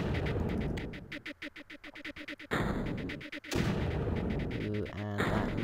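Mortar turrets firing in the video game Creeper World: a rapid series of sharp, rhythmic game-synth bursts, then dense layered booms and impacts, loud and continuous with game noise throughout.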